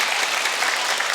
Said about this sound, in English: So I think that's a big clap for you.